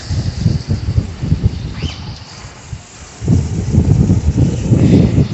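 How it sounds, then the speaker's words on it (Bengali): Strong gusts from Cyclone Remal batter the microphone as rumbling, buffeting wind. The gusts come in uneven bursts, ease off briefly, then return heavier and more sustained. "বাবা তাকানো যাচ্ছে না এত হাওয়া দিচ্ছে"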